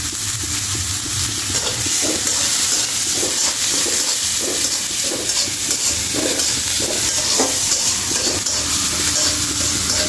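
Bay leaves, cumin seeds, chopped onion and crushed garlic temper in hot oil, a loud, dense sizzle heard close up, with regular spoon scrapes and knocks against the pan throughout and no speech.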